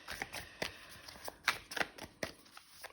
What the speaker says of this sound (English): Don't normally shuffle as much as this either.